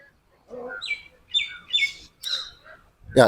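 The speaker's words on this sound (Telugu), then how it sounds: "ఇవి పక్షులు కూడా అరుస్తూ ఉన్నాయి" Several sharp bird calls outdoors by a ground in the evening, four or five squawking chirps in sequence with short pauses, fairly close, ending with a sudden loud burst.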